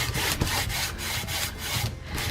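A rag rubbing wood stain into a small dollar-store wooden craft piece, giving steady, close scuffing strokes in a rough back-and-forth rhythm with no talking.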